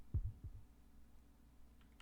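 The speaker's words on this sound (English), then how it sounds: "Certain I could hear her heart beating." A heartbeat sound effect in the 1992 text adventure Otogirisou gives two low, muffled thumps, each a close double beat, then fades into a quiet hum.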